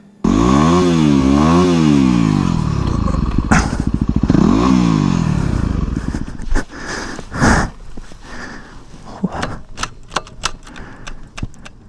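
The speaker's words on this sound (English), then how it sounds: "my new counter sprocket here is spinning on the shaft." Yamaha WR250R motorcycle with its counter sprocket spinning loose on the shaft: a loud, wavering engine drone rising and falling for several seconds, then irregular clanking and rattling bursts as the bike runs, no talk.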